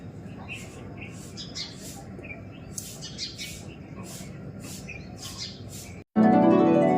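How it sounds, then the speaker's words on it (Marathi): Sparrows chirp in a busy, noisy flurry of quick high calls that repeat throughout, near and lively, before an abrupt louder noise cuts in during the final second. "मला आता वरती आले कारण का चिमण्यांचा खूप दंगा होता"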